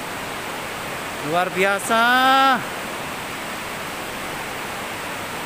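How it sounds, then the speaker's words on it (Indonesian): Tumpak Sewu waterfall roaring steadily at its base, a broad, constant wash of falling water that fills the whole clip, with a voice briefly speaking over it partway through. "akhirnya sampai juga di dasar air terjun Tumpak Sewu"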